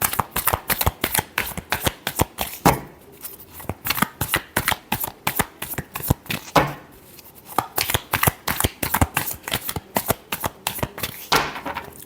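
Tarot cards being shuffled in quick repeated riffles, a dense run of crisp snapping bursts with brief pauses, close and clear with no voices.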